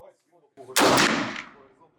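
A single loud gunshot cracks sharply at a shooting training session and decays over about half a second, with faint sounds just before it.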